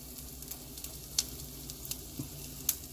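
Whole spices crackling in hot oil as a tempering for Punjabi kadhi, with a steady low sizzle broken by a few sharp pops and spits.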